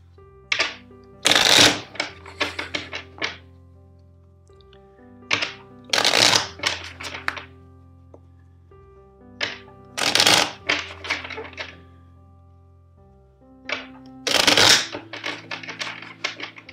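Tarot cards being shuffled in four separate bursts of riffling, each followed by soft taps and clicks, close and quiet between rounds.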